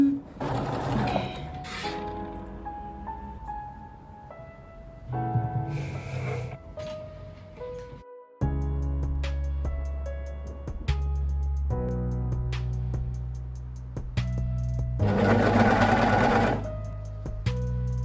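Sewing machine stitching a denim skirt, running in bursts with steady rapid mechanical hum and clatter, pausing and restarting several times, close and fairly loud with no talk.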